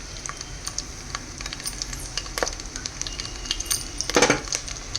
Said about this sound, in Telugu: సో ఇలాగ మనము ఇవి ఫ్రై చేసుకోవాలి